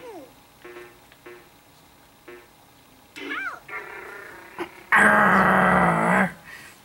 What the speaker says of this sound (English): what, Yoshi growled again?